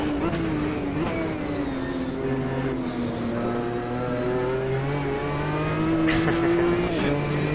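Ginetta GT race car engine in the Automobilista 2 racing game at Alton Park on slick tyres, a steady mid-pitched drone whose tone rises and falls through gear changes and corners, continuous and fairly loud.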